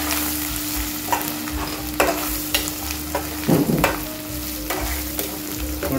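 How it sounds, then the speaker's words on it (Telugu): Spices and chilli powder fry in a pan for a fish curry, giving a steady close sizzle broken by occasional scrapes and clinks of a stirring spoon, with no talking. "ఇక్కడ ఇవి కాస్త వేగనిద్దాము"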